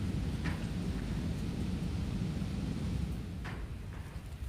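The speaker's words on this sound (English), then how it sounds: "it sounds like it might be raining outside" Rain falls outside as a steady, low rumbling wash heard from indoors, continuous and fairly faint, with a few brief brighter swishes.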